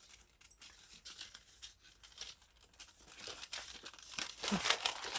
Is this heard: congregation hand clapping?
no